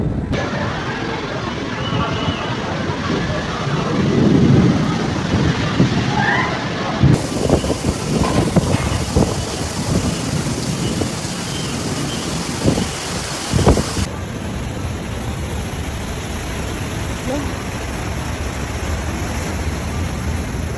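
Dense, steady downpour hissing throughout, broken by a few sharp cracks and low rumbling bursts of thunder nearby, during heavy rain in Mecca, Saudi Arabia.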